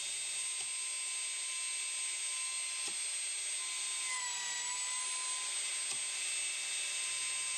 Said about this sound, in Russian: Фрезеровку делаем под две шпонки.